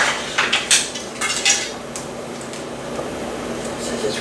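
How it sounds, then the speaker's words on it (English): Bowls and dishes handled in a home kitchen during toy-doll cooking play: a cluster of clattering ceramic knocks and clinks early on, then quieter handling over a low steady hum. "Now I'm going to get another bowl."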